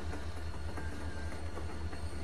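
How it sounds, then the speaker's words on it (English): Train ride in the video game The Walking Dead: a steady low rumble of rolling wheels with faint rhythmic clatter from the rail cars, continuous and close, no voices. "Hey, we're on the train."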